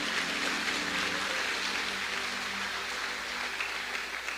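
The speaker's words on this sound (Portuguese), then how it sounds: "Dê um aplauso a Jesus por isso." Church congregation applauding during a sermon, a broad, steady wash of many hands clapping at moderate loudness, with faint voices beneath it.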